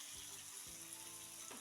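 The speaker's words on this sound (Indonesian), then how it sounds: "Tumis sampai tomatnya matang." Sliced tomatoes and bird's eye chilies sauté for dried anchovy sambal, a quiet continuous frying sizzle with a few soft stirring knocks.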